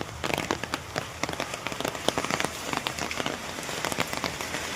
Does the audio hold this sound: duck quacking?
no